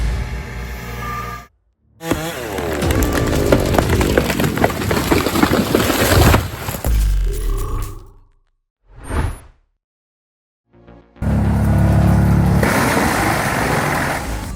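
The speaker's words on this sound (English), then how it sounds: "Now witness the power of the classic Xerion 5000 with the TP400 chipper." Xerion 5000 tractor driving a TP400 wood chipper that shreds giant logs, heard as loud, dense grinding and roaring bursts. Several abrupt cuts fall into silence, then the shredding roar comes back, with a whooshing swell in between.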